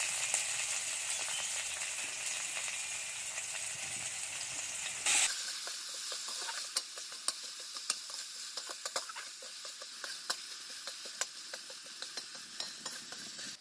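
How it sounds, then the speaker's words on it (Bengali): Chopped onions hit hot oil in a village kitchen wok, bursting into a loud, steady sizzle with crackling spits and pops that continue throughout. "এবারে আমি কড়াইটা বসিয়ে দিয়েছি, তেল দিয়ে দিয়েছি, তেলটা গরম হয়ে গেছে। এবার আমি পেঁয়াজ কুচিটা দিয়ে দিচ্ছি।"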